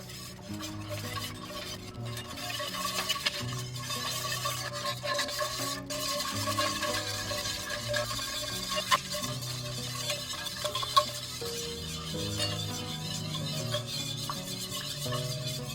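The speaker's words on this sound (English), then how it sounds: "We're going to whisk this and cook this until it is thick, kind of a pudding-like consistency." Milk whisked in a pan over medium heat while it thickens toward a pudding-like consistency, giving a steady, soft scraping and stirring texture with occasional light clinks against the pan, continuous throughout with no talking.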